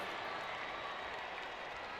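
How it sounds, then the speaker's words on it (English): Crowd at a rugby league match between the Western Pirates and Canberra Cobras, a steady broad wash of cheering and applause that fills the whole clip at a moderate, distant level with no talk over it. "You can hear the crowd now."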